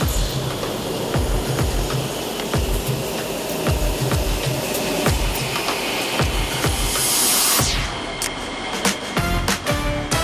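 A Singapore MRT train rumbles along with rhythmic clacks of wheels over rail joints, then a rising whine and hiss as it slows, loud and close.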